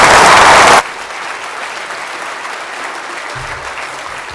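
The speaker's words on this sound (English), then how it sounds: "Please give Sir Anton a big round of applause." A conference audience at the State of the City Economy event gives a loud burst of applause that cuts off sharply within a second. Quiet room tone follows.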